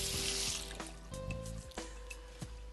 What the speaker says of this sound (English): Turn the water back on and check the entire assembly for leaks.